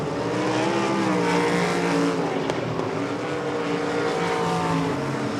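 Race cars roaring around Devil's Bowl Speedway, a dense, steady engine drone of several cars at full throttle, loud and continuous with pitch shifts as they pass.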